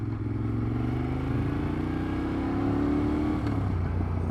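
A Moto Guzzi Griso motorcycle being ridden, its engine giving a steady, smooth drone with a slowly rising pitch as it accelerates, heard close and loud throughout with no talking.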